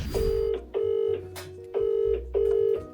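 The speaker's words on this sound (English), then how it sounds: "get on the phone and stop dialing" Touch-tone telephone keypad dialing, four steady beeps in an even rhythm with short gaps between, loud and close with no talk.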